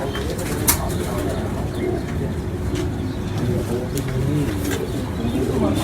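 Teddy and Sialkoti cross-breed pigeons coo in a loft in Lahore, a steady low murmur of overlapping calls with a brief wing flap near the start and faint voices in the background.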